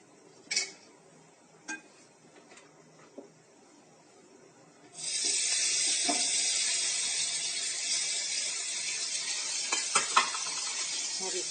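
Khoya dropped into a hot pan for a Laung Latta sweet bursts into a loud, steady sizzle midway through, preceded by a few quiet scrapes and taps of pan and spoon.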